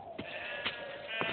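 Sheep bleating in a few wavering, nasal calls close by, each rising briefly over a quiet background with no talking.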